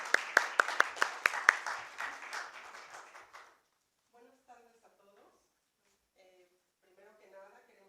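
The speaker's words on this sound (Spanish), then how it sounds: "Quiero darles un aplauso" Conference audience at a talk on pre-Hispanic dance breaks into applause, sharp nearby claps over a dense patter for about three seconds, then it stops and a voice speaks briefly.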